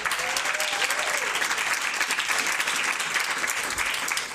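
Applause at an evening awards reception, a full room clapping steadily and continuously, close and even in loudness, with faint voices briefly audible underneath.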